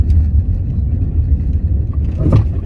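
A passenger car climbs a steep, narrow mountain road, its engine a steady low rumble heard from inside the car, loud and close, with no talk.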